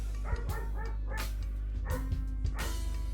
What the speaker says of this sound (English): My dog is also acting up on the other side